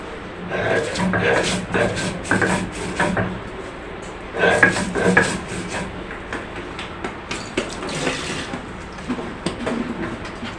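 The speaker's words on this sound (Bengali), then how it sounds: "এখন এগুলি আমি সব কিছু শিলপাটায় বেটে নিই" Onion, garlic and green chillies crushed on a traditional flat grinding stone with a rolling pin stone, heard as loud, rhythmic bursts of grinding and knocking, with a brief lull midway before the strokes pick up again.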